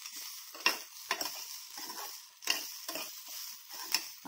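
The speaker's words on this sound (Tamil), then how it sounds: "போட்டுட்டு அப்புறம் நல்லா ஃப்ரை பண்ணுறோம்" Spices for a roasted-and-ground fish curry masala fry in a pan, giving a soft background sizzle broken by several sharp scraping strokes of stirring, close by and with no one speaking.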